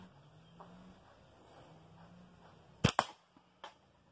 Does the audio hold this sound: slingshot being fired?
yes